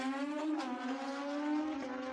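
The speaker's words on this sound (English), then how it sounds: "Parker on an 84 Kawasaki GPZ 1100." A 1984 Kawasaki GPZ 1100 motorcycle at a drag strip, its engine giving a sustained steady roar with a slight rise in pitch over two seconds, heard at a moderate distance.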